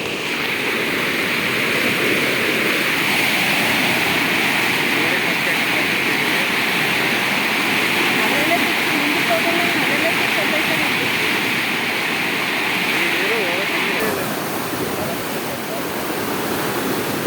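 Dam water from a left-bank canal rushing through the long Bagur Navile water tunnel near Shravanabelagola, a loud steady roar of turbulent flow lasting throughout, with faint voices partly buried beneath it.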